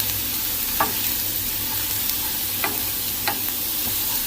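Lentils fry gently in a pan over low heat, a continuous hissing sizzle broken by a few soft stirring scrapes, close and steady, with no one speaking.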